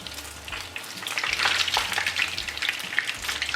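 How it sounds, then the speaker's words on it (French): Egg-dipped rabanadas bread slices fry in a pan with a continuous close crackling sizzle that swells louder midway, with no one speaking. "je trempe dans le jaune d'œuf de chaque côté et je mets à frire"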